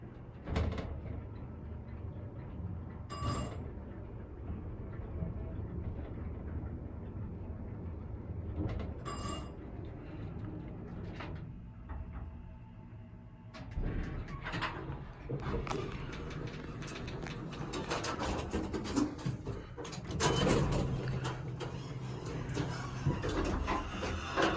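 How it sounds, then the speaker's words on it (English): A Montgomery Vector hydraulic elevator with 2,500 pound capacity at Plaza East in Ravenna, Ohio runs with a low steady hum, broken by a pair of chime-like dings and then the rumbling slide and clatter of doors opening and closing, with ambient noise throughout. "This is the elevator at the Plaza East in Ravenna,"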